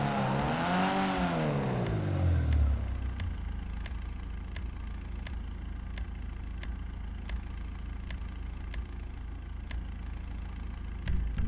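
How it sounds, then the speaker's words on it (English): Karin Futo GTX sports car engine in GTA 5 Online, revving up in a rising and falling sweep before settling into a steady, loud idle with regular sharp ticks, no talking. "Now that's some kind of engine."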